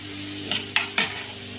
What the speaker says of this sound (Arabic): هحط اللحمه بقى بتاعتي واقلبها كده في بعضها